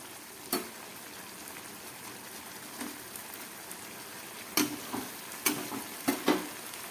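Prawns and chillies hit a pan of hot oil, giving a soft, steady sizzle with scattered sharp pops and crackles, fairly faint and with no one talking.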